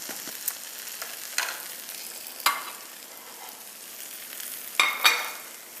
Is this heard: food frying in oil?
yes